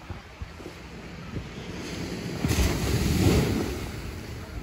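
Sea waves at a quiet beach in Phuket wash in with a soft swelling rush that builds and peaks midway, mixed with wind buffeting the microphone; no one speaks.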